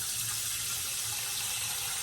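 Tap water runs steadily into a kitchen sink, a continuous close splashing hiss with no talk.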